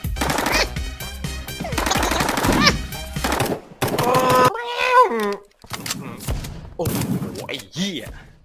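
Gunfire in the online hide-and-seek game Hide.io: rapid automatic bursts and single shots crackle in stretches, mixed with in-game sound effects and overlapped by loud, excited talking and shouting from players.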